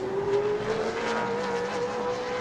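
A Super Late Model race car, the No. 69, roars past during a qualifying lap at New Smyrna, a steady loud engine tone that holds strong across the whole moment with no voices.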